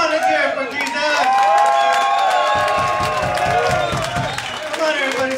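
Loud crowd cheering, whooping and clapping for Jesus at an outdoor Friday Fun Night street church gathering in Phoenix, a sustained mix of many shouting voices and steady applause close by, with voices rising and falling throughout.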